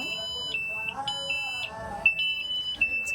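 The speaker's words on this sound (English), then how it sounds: "I got all sorts of alarms going on up here." Engine alarm on a Nordhavn boat beeping in repeated short high tones, with a person talking over it nearby.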